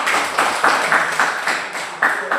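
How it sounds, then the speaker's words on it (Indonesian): A classroom group claps for a presentation of village farm food, a steady run of claps with regular louder bursts, moderately loud, no talk over it. "Ya, tepuk tangan."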